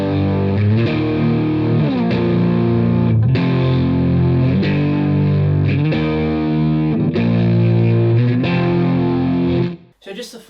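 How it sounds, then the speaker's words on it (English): Distorted electric guitar strums the four-chord main progression of a song, loud sustained chords changing in steady rhythm with effects, ending with a brief pause. "So our main chord part is going to sound like this."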